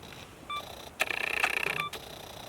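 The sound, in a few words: camera self-timer beeping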